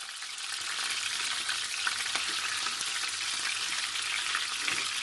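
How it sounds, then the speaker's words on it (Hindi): Chicken pieces fry in hot oil in a pan, a close, steady broadband sizzle with occasional crackles and stirring scrapes, continuous throughout without speech. "और उसको ज़रा हीट कर लेना है और हीट करके अपने चिकन को ऐड कर देना है"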